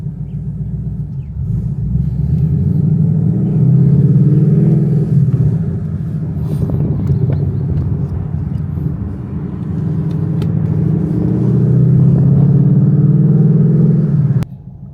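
A Ford Mustang is driven on the road, its engine holding a steady, loud low rumble from inside the car, dipping briefly midway before building again and cutting off at the end.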